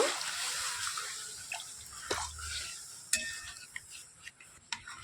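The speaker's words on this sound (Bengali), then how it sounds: "এবার অল্প অল্প করে জল দিয়ে নাড়াচাড়া করে মিশিয়ে খুব সুন্দর করে একটা ডো তৈরি করে নেব" Water poured bit by bit into semolina and milk powder dough while it is mixed, soft wet splashes and scattered sharp clinks of a utensil against the bowl, quiet and close.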